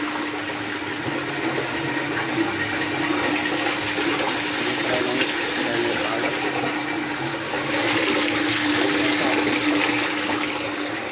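Steady broadband rushing and churning water from a mixer in a chemical mixing tank at a water treatment plant, with a constant mechanical hum underneath, loud and continuous throughout.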